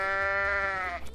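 A goat in the game Goat Simulator lets out a single loud, drawn-out bleat with a strong harmonic wavering tone that holds steady and then tapers off near the end.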